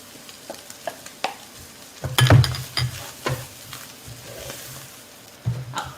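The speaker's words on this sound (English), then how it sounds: "We're going to add the coconut back in here." Grated coconut frying in oil in a pan, stirred with a utensil: a soft sizzle broken by close scraping and knocking strokes, one heavier clatter near the middle.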